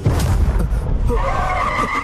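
Car brakes locking up, tires skidding and squealing in a sudden hard stop, loud and close, one continuous screech lasting about two seconds.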